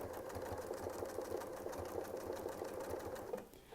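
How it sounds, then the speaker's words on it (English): A sewing machine stitching along a Westalee ruler template while quilting, running in a steady, rapid mechanical hum with a rhythmic needle chatter, close and continuous, slowing near the end, with no talk. "we want to sew this part so we won't move anything, but we'll just sew out till we touch and come back"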